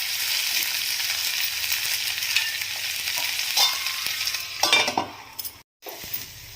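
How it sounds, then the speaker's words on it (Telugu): Onion and tomato sizzle steadily in a pan for a Telugu curry, with occasional clinks and scrapes of a spoon stirring against the metal near the end. "ఇందులోకి మనం కట్ చేసుకున్న టమాటాని యాడ్ చేసుకొని సాఫ్ట్ అయ్యేంత వరకు కూడా మంచిగా కుక్ చేసుకోవాలి"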